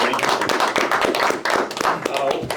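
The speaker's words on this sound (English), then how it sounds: "give a round of applause to the president of the IE Mastermind, Mr. Nick Pius" An audience claps and applauds for the president of a business mastermind group at a meeting, a dense, steady patter of many hands lasting throughout, with talk mixed in.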